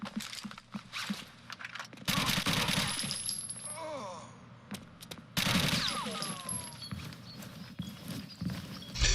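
Gunfire in the video game Rainbow Six Siege: bursts of sharp shots and rapid rattling fire in two loud clusters, with clinking and ringing effects between them and faint game ambience.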